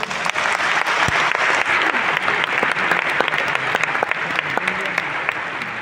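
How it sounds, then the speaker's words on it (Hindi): Loud, sustained applause from an audience at a recognition program, dense continuous clapping with crisp individual claps standing out, close and steady throughout. "तो उन लोगों के लिए भी एक जोरदार ताली हो जाए।"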